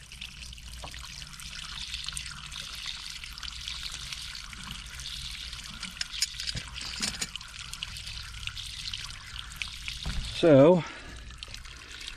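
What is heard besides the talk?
water draining from an electric water heater tank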